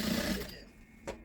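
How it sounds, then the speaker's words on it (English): A sewing machine runs steadily while stitching an elastic waistband with a drawstring, its motor hum loud and continuous at first, then easing off, followed by a brief sharp sound near the end. "Just keep sewing on it like that."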